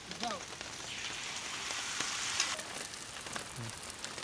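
Egg and liver frying together in a pan, a steady close sizzle and crackle throughout with a few faint clinks and scrapes, no talk.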